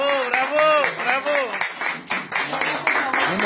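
An audience applauds at an award ceremony, with loud overlapping clapping beneath a voice calling out over the crowd.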